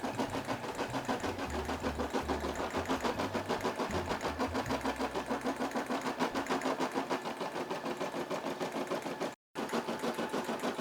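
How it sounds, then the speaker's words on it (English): A Brother SE600 embroidery machine stitching with white thread, a fast steady mechanical needle chatter with a low motor hum, close and continuous, broken by one brief pause near the end. "So now I'm going to push the button and it's going to start embroidering."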